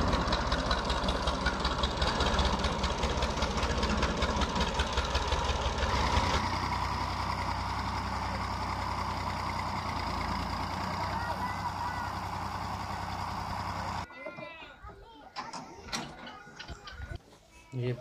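A tractor with a trolley in a village farmyard idles loudly and steadily while chickpeas are about to be loaded, the rumble continuing under voices before cutting to quieter handling sounds near the end.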